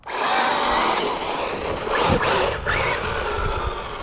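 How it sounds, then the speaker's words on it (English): Team Corally Asuga XLR 6s RC car accelerating hard at full throttle, a loud continuous electric whine with gritty surface noise, steady and close with no talk. "I just wanna see what happens right now if I gun it"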